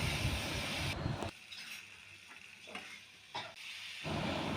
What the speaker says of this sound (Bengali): গাঁঠিগুলোকে মশলার সাথে ভালো করে মিশিয়ে নেব